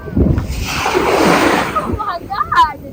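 Sea water at Ras Tanura beach in Saudi Arabia splashes and sloshes loudly and close by in a broad rushing wash. Voices of people talking follow near the end.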